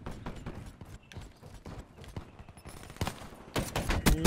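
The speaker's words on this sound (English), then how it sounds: "Got the slow machine gun again" A slow-firing machine gun in Call of Duty Black Ops Gun Game mode, spaced shots thudding in an uneven rhythm, with mechanical clatter and a louder cluster of fire toward the end.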